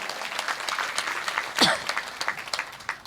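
Audience applause during a kirtan at a saint Mirabai death-anniversary gathering, a steady crowd clapping that swells briefly near the middle before settling into continued scattered claps.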